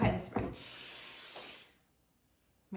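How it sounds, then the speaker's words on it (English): Cooking spray is sprayed into silicone cake pans: a couple of short hissing bursts followed by a longer, steady close-up spray lasting over a second, then silence. "Good to spray. Yep, go ahead and spray."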